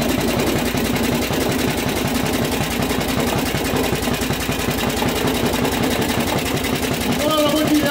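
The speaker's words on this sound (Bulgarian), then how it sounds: "Мотора работи идеално." Repaired DM1 engine idling after a cylinder head grinding and gasket replacement, a rapid, even mechanical chugging heard close and steady, with people talking over it.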